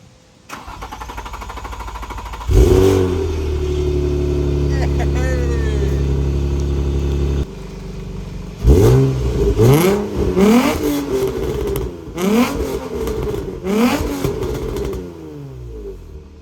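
A car engine with an exhaust leak cranks and fires into a loud steady idle, cuts out, then restarts and is revved in several rising and falling bursts up close.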